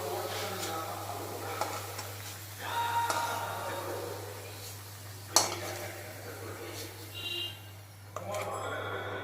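Loitta (Bombay duck) fish pieces fry in a pan for a spicy fish curry, giving a soft hissing sizzle with occasional utensil clinks and a low steady hum, while a voice talks over the cooking.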